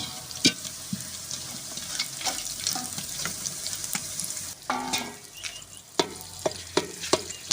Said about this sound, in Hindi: अब इसमें लहसुन डालेंगे।